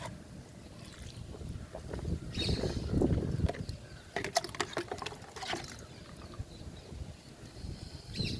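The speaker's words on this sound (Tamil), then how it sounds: "தண்ணி விட்டுருங்க." Water poured from a container onto a garden bed mulched with coconut coir waste, giving a quiet splashing trickle with a swell of louder gushing in the middle, then steady dribbling.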